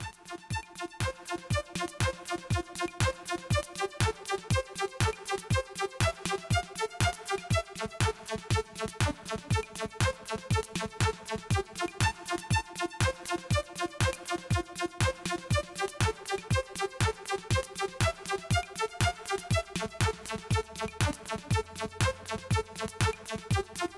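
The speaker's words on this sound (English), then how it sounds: "I've put together a 48-note sequence that sounds like this." A fast, evenly pulsing 48-note step sequencer pattern in VCV Rack, short repeating synth notes in a steady mechanical rhythm looping for the whole stretch with no voices.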